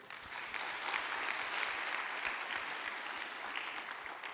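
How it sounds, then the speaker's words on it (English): An audience at a 2025 safety conference gathering claps enthusiastically, a dense, sustained wash of applause at even volume throughout, without any voices on top. "So may we all give ourselves an enthusiastic round of applause"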